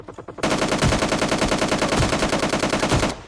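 Automatic gunfire in PUBG Lite: a few separate shots, then a loud, continuous rapid burst of rounds lasting about three seconds, with no voices.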